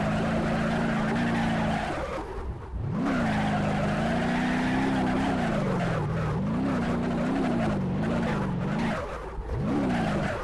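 A pickup truck's engine revs in the crash-test simulator game The Drive, a loud, continuous motor tone that rises and falls in repeated pulses of throttle over ten seconds, with no talk.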